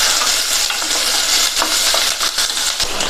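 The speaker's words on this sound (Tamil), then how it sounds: "இதை எல்லாத்தையும் ஒரு 2 நிமிஷத்துக்கு வதக்கி விட்டுக்கலாம்." Chopped onion, green chillies and halved garlic sauté in hot oil with a loud, close, continuous sizzle. Stirring strokes and a few clinks of a spoon against the pan come through it.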